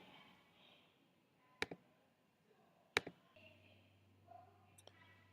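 A computer keyboard spacebar is pressed in two sharp, isolated clicks a little over a second apart, followed later by a fainter tap against a quiet background.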